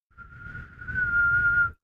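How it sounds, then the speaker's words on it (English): A single rising and steady whistle, clear and near, lasts under two seconds and plays alone in a narrated audiobook of the Sherlock Holmes story The Speckled Band. "whistle sound to come back to him."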